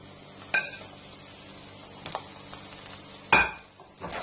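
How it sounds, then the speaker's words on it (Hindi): Spices fry quietly in oil over low heat, a soft low sizzle punctuated by three sharp spoon scrapes or clinks against the pot. "सिर्फ 1 मिनट तक हम इनको ऑयल में भून लेते हैं"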